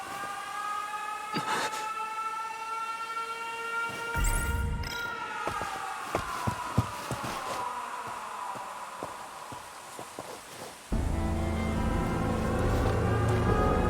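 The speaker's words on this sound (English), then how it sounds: "An air raid. They're trying to bomb the factory." In the video game 13 Sentinels: Aegis Rim, a wailing air-raid siren sounds over a factory district during a bombing raid. It comes with sharp thuds and clatter, and a heavy rumbling roar surges in near the end.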